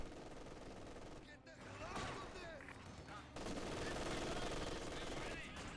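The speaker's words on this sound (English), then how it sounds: "MG suppressing the Maxim." Rapid, sustained bursts of MG42 machine gun fire from Company of Heroes 2 rattle against other battlefield gunfire, quiet and layered in a busy wartime soundscape with a louder stretch toward the end.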